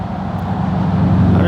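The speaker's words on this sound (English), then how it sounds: "You can hear the traffic behind me" Road traffic passes near railroad tracks, a continuous broadband rumble of vehicles with low engine drone that grows slightly louder, close and steady.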